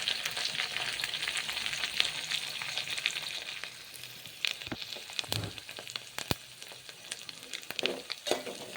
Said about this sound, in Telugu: తర్వాత కొంచెం కొత్తిమీర వేసి మళ్ళీ ఫ్రై చేసుకోండి.